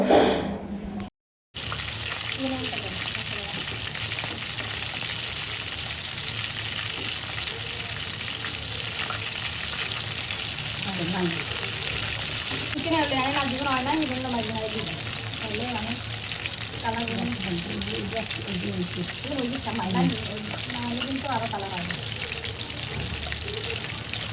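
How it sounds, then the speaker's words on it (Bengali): Pieces of loitta (Bombay duck) fish frying in hot oil, a steady loud sizzle throughout with occasional bubbling and stirring sounds, close up and without talk. "এখন আমি বাকিগুলো আস্তে আস্তে ভেজে ফেলবো।"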